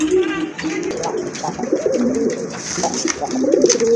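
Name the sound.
pigeons cooing, Indian Bombay pigeons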